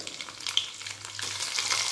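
Mustard seeds, cumin, garlic, chilli and asafoetida sizzle and crackle in very hot oil, a close, soft frying hiss with scattered pops and light stirring, growing slightly busier toward the end.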